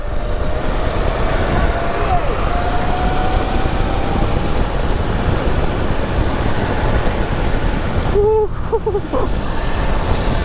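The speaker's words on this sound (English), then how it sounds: "Street riding the Sur Ron kart." A Sur Ron powered electric go-kart driving along a public main road, with loud steady rushing wind and road roar throughout and a brief tonal whine near the end.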